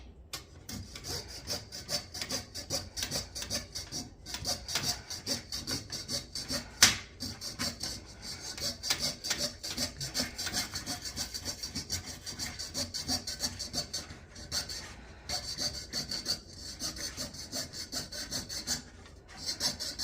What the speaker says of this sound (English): Done quite a bit of the sawing or piercing out already.